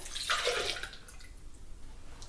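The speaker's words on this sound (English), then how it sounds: "now I will pour 1 cup of orange juice into the blender" Freshly squeezed orange juice is poured into a blender: a short splashing gush for about a second, then fading to faint trickles and drips.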